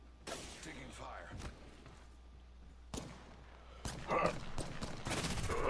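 Apex Legends gunfire, with irregular sharp shots scattered across a few seconds, some isolated and some clustered into quick bursts toward the end, heard under faint game ambience and occasional voice.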